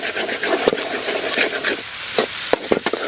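Village chicken gravy sizzles in a pan with tomatoes while a spoon stirs it, giving close, loud scraping strokes over a constant frying hiss.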